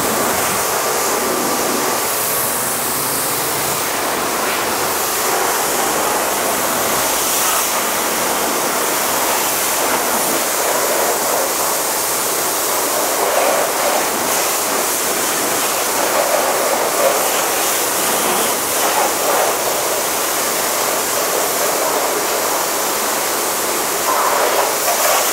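A pressure washer rinses a ceramic-coated car in a detailing workshop, making a loud, close, steady hiss of high-pressure spray that runs continuously throughout with no pauses.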